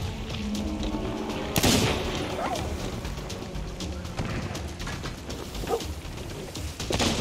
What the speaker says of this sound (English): They're taking shots at us.